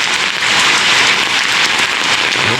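Heavy rain pours steadily onto surfaces outdoors, a loud, dense, unbroken hiss with no pauses and no voices.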